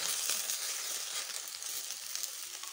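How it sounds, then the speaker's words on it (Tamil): Okra (vendakkai) sautéing in a pan over medium flame gives a steady, close, bright sizzle with faint crackles throughout, no voices. "இந்த மாதிரி லைட்டாக தான் போட்டு நம்ம வதக்கணும்."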